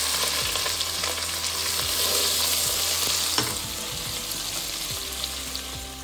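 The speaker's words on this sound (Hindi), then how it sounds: "फिर हम इसमें ये प्याज डालेंगे," Onions fry in hot oil with white cumin for a turnip mutton curry, giving a loud, steady, close sizzle with occasional scraping stirs.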